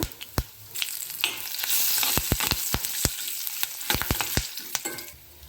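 Peanuts and curry leaves crackle and spit in hot oil for lemon rice, a close, dense sizzle broken by sharp pops and stirring clatter through the whole stretch, no voices.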